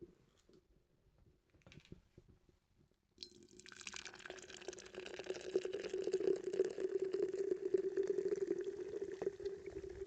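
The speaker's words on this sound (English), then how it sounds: "So let's open up this cherry cola by Ollipop." A can of Olipop cherry cola soda is opened and poured, a quiet start giving way at about three seconds to a steady, loud fizzing pour that runs on to the end with no talk.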